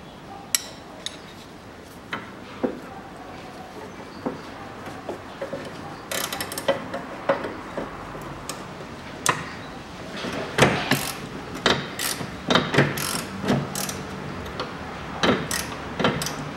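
A ratchet turns a nut on the front stabilizer link of a 1.5 Hyundai Accent, giving scattered quiet clicks and ticks that grow more frequent and louder toward the end, close by.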